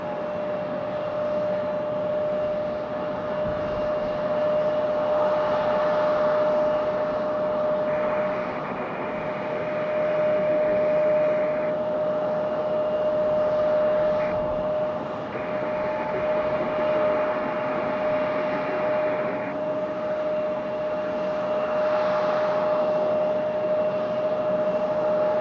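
A brand new JetBlue Airbus A220 jet taxis at Raleigh-Durham airport, a steady engine whine with a prominent tonal hum over a broad rushing drone, with no talk.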